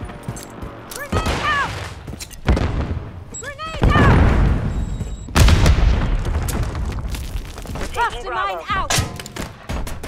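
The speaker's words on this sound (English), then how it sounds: "Friendly precision airstrike inbound." Precision airstrike explosions in the Modern Warfare III video game land as heavy booms and thuds amid gunfire, repeated blasts loud and close, with game voice callouts mixed in.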